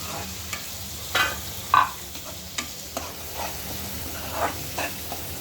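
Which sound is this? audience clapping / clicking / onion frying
onion frying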